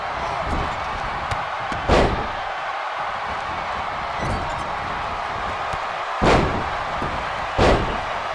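Wrestler Daniel Bryan's opponent slammed onto the mat at WrestleMania 34, a few heavy thuds standing out sharply over a steady arena crowd roar, with a commentator talking.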